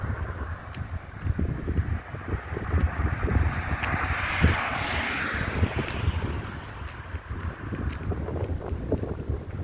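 Strong, cold wind gusting across the microphone outdoors on a roadside lined with lemon trees and parked cars, a steady rumbling buffet that swells and fades over the whole stretch, with no talk.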